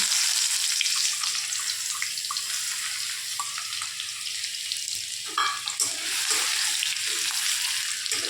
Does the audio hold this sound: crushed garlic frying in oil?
yes